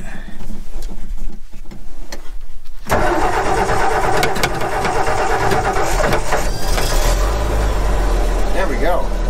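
Old truck engine with a single-barrel Holley carburetor and finicky choke cranking briefly, then catching and settling into a loud, steady idle close by, with someone talking over the start.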